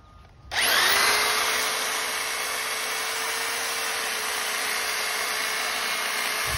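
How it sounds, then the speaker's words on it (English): A power hedge trimmer starts abruptly and runs at a loud, steady high-pitched whine while cutting garden bushes, close by and without a break for several seconds. "I'm gonna see if I can trim my bushes"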